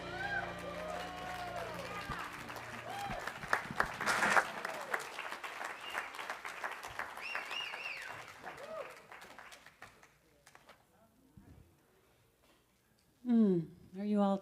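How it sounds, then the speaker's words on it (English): Audience applause after a performance at a talk, sustained crowd clapping fading out toward the end, with voices talking partway through and a speaking voice after a near-quiet pause. "Let's give her another round of applause."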